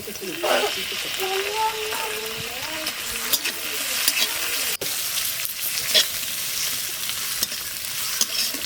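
Prawns frying in a pan with chopped onion, a loud close sizzle that runs the whole time, with scraping stirs and occasional splatters, while a voice talks over it.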